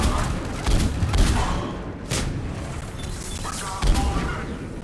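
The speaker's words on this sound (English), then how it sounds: "Commander, we're getting a lot of mortar fire." Mortar fire in a combat scene from the Mass Effect video game, with Cerberus forces engaged: dense, continuous booms and crackling blasts, several louder impacts standing out over a steady rumbling battle din.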